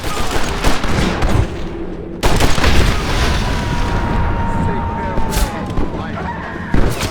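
A Gatling gun firing in Red Dead Redemption: continuous, loud rapid gunfire with booming impacts that runs throughout. It is interrupted by a short gap and mixed with game noise and voices.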